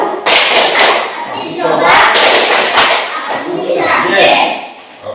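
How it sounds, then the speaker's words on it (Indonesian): Students in a classroom clap together in the rhythmic tepuk IPA routine, producing loud bursts of claps and thuds mixed with voices. "Silakan berdiri, kita tepuk IPA untuk kita mengikuti kegiatan hari ini."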